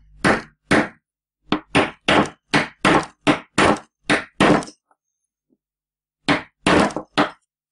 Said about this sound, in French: je vais utiliser une grosse douille comme ça, et je vais venir l'enfoncer jusqu'à fleur de la poulie.